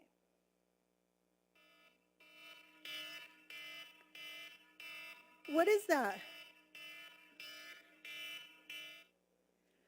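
An iPhone alarm tone rings in a steady repeating pattern of bright pulses, fairly loud, with a voice briefly asking a question over it midway.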